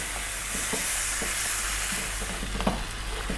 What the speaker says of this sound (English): Now we're going to go for another 4 minutes, giving it a stir every now and then.